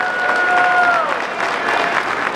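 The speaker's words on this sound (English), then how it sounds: "let's have a round of applause for the door guards" A crowd applauds steadily, a dense wash of clapping with a faint whistle-like tone sliding near the start.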